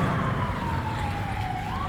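A police siren in New York wails steadily in the distance, its pitch sliding slowly down and back up beneath a dense rumble of traffic noise.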